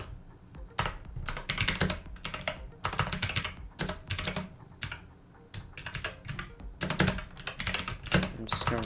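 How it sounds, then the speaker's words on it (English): Fast, uneven typing on a computer keyboard while writing a blog page in Node.js, with close clattering bursts of keystrokes separated by short pauses, running for about nine seconds. "I'm just going to write some random things here. My typing is very weird today, by the way."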